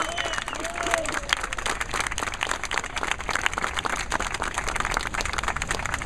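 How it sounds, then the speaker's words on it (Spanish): A crowd bursts into sustained, dense applause at a public statement on justice, the steady roar of many hands continuing at an even level throughout with faint voices mixed in. "para la cual pedimos un aplauso."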